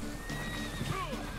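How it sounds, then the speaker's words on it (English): A horse neighs in the Red Dead Redemption 2 video game, a short rising whinny over a low steady background hum with faint hoof sounds. "Hey, this way, my horse is coming."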